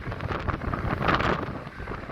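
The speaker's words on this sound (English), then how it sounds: "Really cold, really blowy." Strong, cold winter wind buffets the microphone on Blackpool promenade by the sea, a loud continuous roar with gusty swells and no speech.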